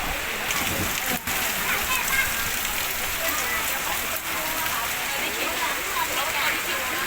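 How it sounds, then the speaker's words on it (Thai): Heavy rain pours steadily outdoors in Khu Mueang district, Buriram, during a storm strong enough to wreck a tent, a dense continuous hiss of downpour and wind with no voices. "บรรยากาศด้านนอกนี่ฝนตกหนักแล้วครับ ลมแรงเต็นท์พังไปหนึ่งหลังแล้ว"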